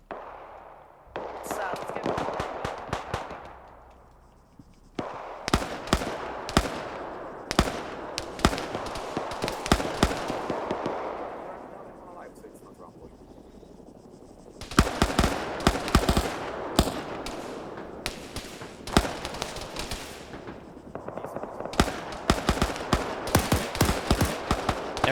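Dense gunfire and grenade blasts from a military game session in Arma, OFCRA PMC campaign: rapid automatic bursts and cracking shots pile up in loud, sustained volleys with brief lulls, close and continuous.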